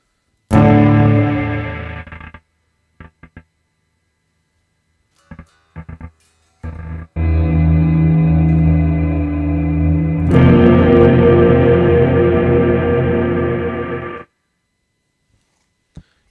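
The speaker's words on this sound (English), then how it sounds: "Decay is going to control how quickly you're going to hear that reverb sound decay away" Guitar chords ring out through heavy reverb from an Eventide Space reverb pedal with long decay, separated by a few sharp taps, then two long sustained swells that fade slowly before cutting off.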